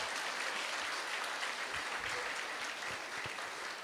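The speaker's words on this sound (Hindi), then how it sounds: "ताली बजाने की बात है।" An audience at a talk applauds, a dense, even wash of clapping heard at a distance and fairly faint, holding steady throughout.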